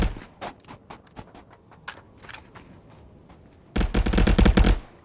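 Gunfire in the VR shooter ContractorsVR during a competitive clan match: scattered single shots and short bursts, then a loud, sustained automatic volley near the end.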